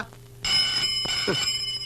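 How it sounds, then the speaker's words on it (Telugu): A telephone rings steadily at close range right after a quiet start, with a brief bump of other sound partway through. "ఫోన్ మోగుతోంది కదరా"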